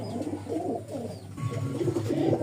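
Domestic pigeons, a pair of male and female birds in a loft, coo in repeated low throaty rolls that run close and steady for the whole stretch, with no voices.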